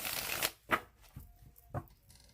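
Tarot cards shuffled in hand in a few distinct riffling bursts and taps, close and fairly quiet, with no talking.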